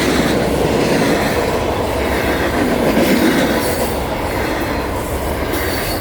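An Aurizon double-stack freight train in Australia, hauled by three locomotives, rumbles past close by with a continuous loud roar of wheels and wagons and a faint squeal, with no voices.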